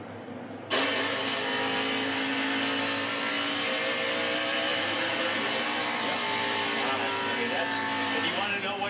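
A NASCAR stock car engine, the number 22 car at 2016 Coca-Cola 600 practice, starts abruptly and holds a loud, steady buzzing drone as it rolls out onto the track, with a voice talking briefly over it.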